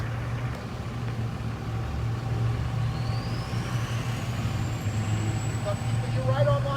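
A truck eases a trailer back toward concrete steps on a city street, a steady low engine idle droning throughout with a rising whine, while people call out directions over it.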